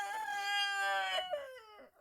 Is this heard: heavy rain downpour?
no